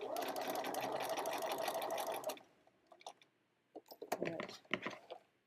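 Sewing machine running steadily while back stitching a seam on a heart-shaped zippy pouch, a dense continuous whir that stops abruptly, followed by quiet handling clicks and rustles close by.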